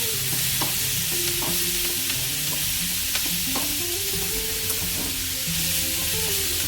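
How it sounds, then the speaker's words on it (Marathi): Matar paneer masala sizzles steadily in a pan while a spoon scrapes and stirs through it in repeated strokes, close and continuous with no talking. "चांगलं झालं पाहिजे परतून।"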